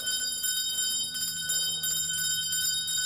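Many house bells ring out loudly together in a continuous, dense, shrill jangle that holds steady throughout without pause.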